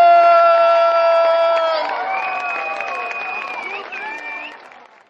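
Thunderous applause, crowd clapping and cheering loudly at first over lingering musical tones, then a sustained swell of clapping with whoops that gradually fades toward the end.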